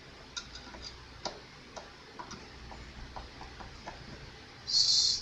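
Screws on the hardware of a 1965 Epiphone E360 12-string guitar are tightened with a screwdriver, giving a series of faint, sparse ticks and small clicks up close, with a brief brighter hiss at the end.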